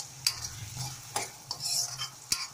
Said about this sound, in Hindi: अब इसको हम अच्छे से पका लेंगे, जब तक कि हमारा टमाटर गल ना जाए तब हमें इसको पकाना है।